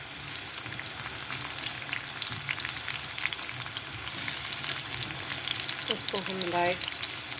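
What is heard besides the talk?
finely chopped onion frying in hot oil in pan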